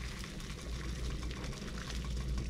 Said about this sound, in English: I got some water boiling here